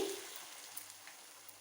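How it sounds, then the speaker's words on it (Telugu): Moong dal punugulu (gunta ponganalu) fry in oil in a pan, making a soft, even, continuous sizzle that starts a little stronger and settles into a faint crackling hiss, with no voices. "ఇప్పుడు పునుగులు వేస్తున్నాను. ముందుగా మధ్యలో బాగా హీట్ ఎక్కువ ఉంటుంది, ఇవి తొందరగా ఫ్రై అయిపోతాయి."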